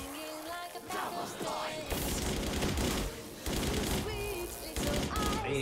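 Death Machine minigun firing in a video game, a loud continuous rattle of rapid shots that runs the whole stretch with brief dips, dense and close amid game noise.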